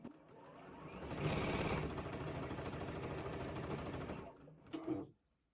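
A sewing machine runs continuously for about four seconds, stitching the final seam of a gingham grid quilt, close and steady, then stops abruptly with a brief clunk.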